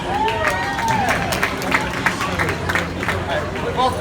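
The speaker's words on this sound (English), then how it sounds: "Let's give this guy a round of applause." A street show crowd in Old Town, Florida claps and cheers for a volunteer, a busy outdoor mix of scattered applause and chatter with a performer's voice talking over it.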